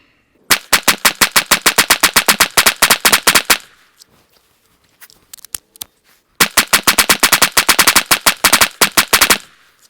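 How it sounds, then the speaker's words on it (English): A PSA 5.7 Rock pistol fires AAC ammunition in two rapid strings of roughly twenty sharp, loud shots each, separated by a few seconds of near silence with faint handling clicks. "I've got 100 rounds we're going to shoot through today"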